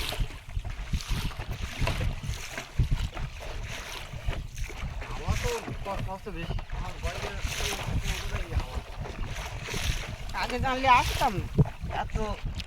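Strong gusty wind on the Garal river while fishing from a boat with a submerged don trap, a rough low rumble buffeting the microphone throughout with a voice speaking over it in places.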